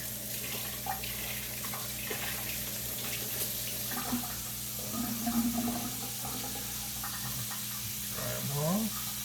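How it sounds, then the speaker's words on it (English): Tap water runs steadily into a kitchen sink as hands are washed, a continuous close hiss with faint splashes, and a voice talks briefly near the end. "I'm just going to wash my hands real quick."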